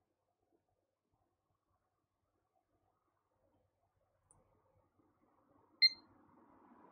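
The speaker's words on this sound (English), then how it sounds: "I just had a beep." A desktop PC built around a Ryzen 2600X CPU gives a single short, sharp POST beep on startup, clear and brief against a quiet room with faint low hum afterward.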